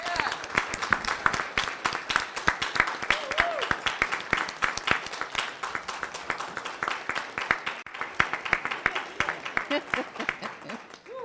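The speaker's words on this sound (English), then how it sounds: "So let's give our cadets and instructors a round of applause." A board meeting audience gives a round of applause for cadets and instructors, with close, crisp individual claps in a brisk rhythm that continue for about eleven seconds. A faint voice is briefly audible beneath the clapping.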